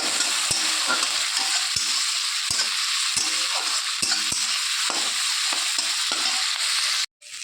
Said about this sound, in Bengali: এবার মশলাটার সঙ্গে চিংড়ি মাছটাকে একটু ভালো করে ভেজে নেব